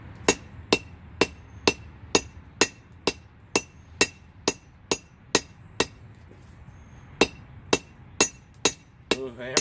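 Left-handed hammer blows forge a hot steel J hook, about twenty sharp metallic strikes in a steady rhythm with a short pause midway, ringing over low background hum.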